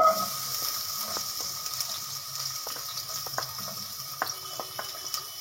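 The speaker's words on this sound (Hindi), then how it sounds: "इसके अंदर ऑयल डाल के इसके अंदर हम प्याज डाल देंगे।" Onions fry in hot oil in a pan, a soft continuous sizzle with a few faint clicks and light stirring taps, fairly quiet and close, with no voices.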